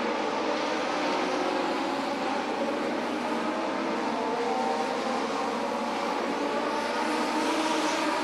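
Race cars at Beaver Dam roaring around a track, a dense continuous engine roar from a pack three wide that stays at a steady loudness throughout.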